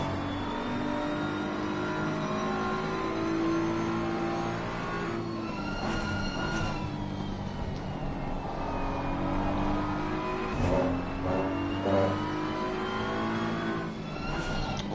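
Race car engines roar continuously in a sim racing game at Watkins Glen, an onboard BMW chasing a Bentley, with steady engine drone rising and falling through gear changes and revs.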